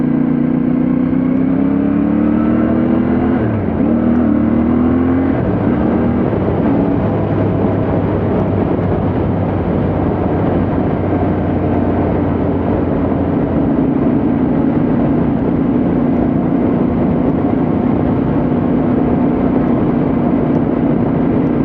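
Continuous exhaust burble from a CFMOTO 450MT adventure motorcycle being ridden on a mountain pass road, a loud steady drone with a few gear-change shifts in pitch early on and no talk.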